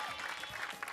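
A quick, soft burst of studio audience applause on an Indonesian television show, a short even patter of many hands clapping heard at low level.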